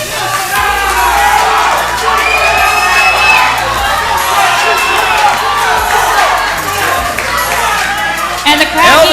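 A crowd at a live CrossFit competition cheers and shouts continuously, loud and dense, with whoops and yells rising above the roar while a voice talks over it.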